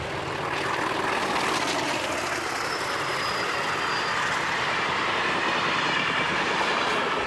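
A CP class 1800 diesel locomotive rolls past the main diesel workshops in Portugal, a steady broad rumble of engine and wheels at moderate distance, continuous and unbroken.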